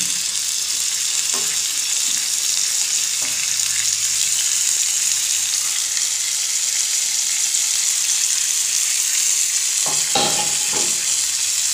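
Koi fish frying in a pan with home-grown beans gives a steady, fairly loud sizzle throughout, with a few soft utensil knocks near the start and end.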